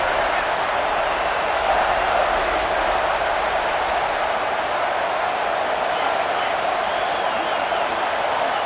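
Stadium crowd cheering in the College Football 26 video game, a dense, loud, continuous roar of many voices on a third-down red zone play, holding steady throughout with no clear individual calls.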